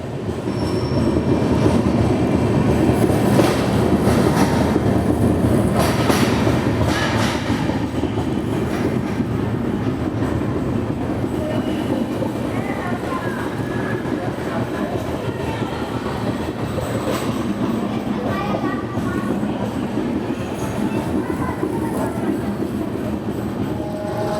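The Visakhapatnam–Mumbai LTT SF Express, train 22847, rolls slowly past Bhilai Power House with a loud, steady rumble, wheel squeal and rhythmic clatter, and faint voices now and then.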